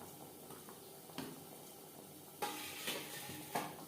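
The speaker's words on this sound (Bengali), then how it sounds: "আলু চিকেন গ্রেভির সাথে বেশ ভালো করে মিক্সড করে দেব" Potatoes are stirred into chicken gravy in a pan, with soft spoon scrapes and occasional clinks against the metal over a faint background simmer, all quiet and close.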